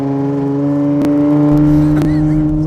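A Fab Fours Legend Jeep on 50-inch tires pulls away, its engine holding a strong, steady droning hum with two sharp clunks along the way, loud and close.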